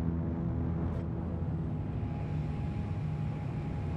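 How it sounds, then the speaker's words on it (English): Heavy engines of the Cutlass Blue spaceship in Star Citizen give a deep, steady, rumbling drone that stays loud and constant throughout, with no voices. "the Cuddy does sound beefy, especially with them big ass engines"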